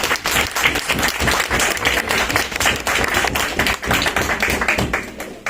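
Audience at an International Education Day event giving a speaker a welcoming round of applause, dense continuous clapping from a crowd filling the room at close range.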